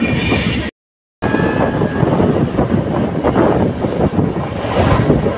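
The Amarnath Express runs at about 120 km/h on a crowded train, making a loud, continuous rumbling rush with heavy wind-like roar. The sound cuts out briefly near the start, then continues steadily.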